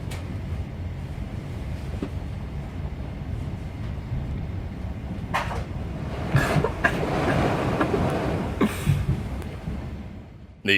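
A long freight train of heavy loaded wagons rolls past, a steady low rumble and rattle sustained throughout with wind noise, swelling slightly near the end.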